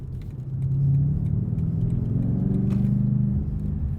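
A 2020 BMW M8 Competition Coupe's engine rumbles low and steady while cruising under light load, a loud, close, continuous drone with no voices.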